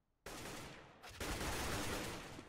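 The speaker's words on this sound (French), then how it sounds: "et Yay qui tombe aussi sous les balles d'un joueur de FIFA" Sustained automatic gunfire in the video game CS:GO, a dense, loud stream of shots that kicks in abruptly, then swells further as more weapons join the exchange.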